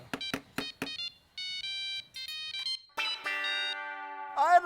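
A telephone ringtone plays as a call is placed to Roshan: a few sharp percussive hits, then bright, steady electronic tonal phrases that step between pitches and hold, loud and close with no talking over them.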